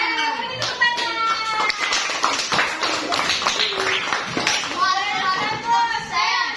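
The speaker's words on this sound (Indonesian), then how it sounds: "Beri tepuk tangan." Children in a classroom clap their hands together, a brisk patter of claps mixed with lively children's voices chattering and calling out throughout.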